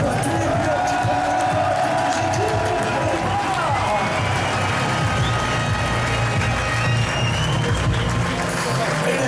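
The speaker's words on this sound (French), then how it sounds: "Mesdames et messieurs, applaudissements général pour tous les pilotes qui prennent" Crowd applauding motorcycle riders on the grid before the start of the 24 Hours of Le Mans motorcycle race, a steady wash of distant clapping and cheering mixed with engine rumble and announcer talk throughout.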